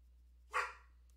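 A dog in a home gives a single short bark, somewhat distant and muffled, with a steady low hum underneath and no speech.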